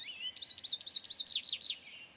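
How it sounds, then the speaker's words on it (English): American goldfinch call played in a Nancy Drew video game, a quick series of about eight bright, sweeping chirps in an even rhythm, clear and close with no voices over it. "Bird calls. American goldfinch."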